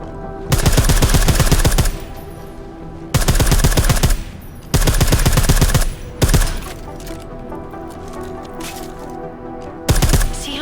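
Silenced gunfire in Deus Ex: Mankind Divided, heard as loud, close bursts of rapid automatic fire with pauses between them, plus a few single shots, with no talking.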